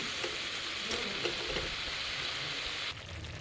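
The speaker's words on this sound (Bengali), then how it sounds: "ঝোলটা ফুটে গেছে এবার এর মধ্যে এই ভেজে রাখা ফুলকপিগুলোকে দিয়ে দেবো" Fried cauliflower pieces simmering in boiling gravy, giving a steady, fairly quiet bubbling sizzle with a few soft stirring knocks and no talking.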